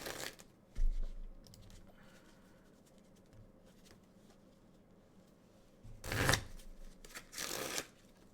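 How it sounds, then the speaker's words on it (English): A deck of Magic cards in BCW Elite Guard sleeves is shuffled close by. Soft riffling bursts come in short clusters, with quieter sliding and tapping between them. "That was my wonderful shuffling deck, protected by none other than my BCW Elite Guard sleeves"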